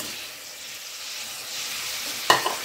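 Cauliflower is stirred into spice paste that has been fried until the oil separates, giving a steady hiss of frying with one sharp scrape and clatter near the end.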